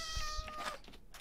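Cats in the video game Minecraft, with a couple of short, clear meows up close against faint game sounds and no talking.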